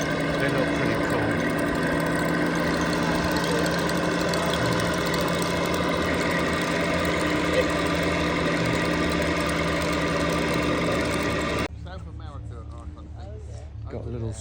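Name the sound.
small steam engine running with boiler going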